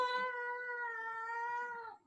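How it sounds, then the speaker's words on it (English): A single drawn-out cat meow, clear and close, holds steady for nearly two seconds before trailing off, with no other sounds around it. "Nice cat."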